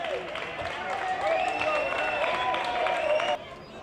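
A town crowd cheering and clapping for skaters, a dense continuous roar of voices and applause that stays loud for several seconds before dropping off abruptly.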